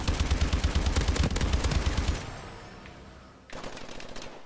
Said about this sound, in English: Stop shooting at me, I've done nothing wrong.